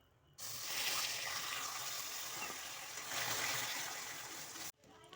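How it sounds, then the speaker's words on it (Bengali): Water poured onto hot sugar caramel in a pan, giving a steady, loud rushing hiss that runs for about four seconds and then cuts off abruptly. "এর উপরে আমি একটু জল দিয়ে দিচ্ছি"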